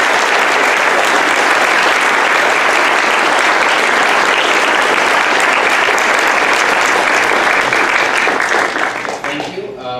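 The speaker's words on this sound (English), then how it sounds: "Please give our panelists a round of applause." An audience at a space symposium applauds its panelists with sustained, loud, full-room clapping that holds steady for about nine seconds before tapering off as a voice begins to speak.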